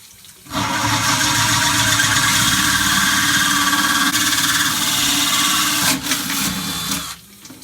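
A power drill bores a hole straight down into aquarium glass for a 1.25-inch vent grommet, running as a loud, steady whine for about six seconds before stopping.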